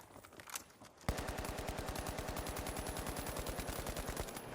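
AKM rifle fire in a video game: after a brief quiet lead-in, a rapid, evenly spaced automatic burst opens abruptly and runs loud and sustained for about three seconds before cutting off.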